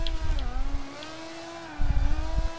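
An Aston Martin race car engine in a racing video game drones and shifts pitch steadily, with rumbling surges at the start and again toward the end, no talk over it.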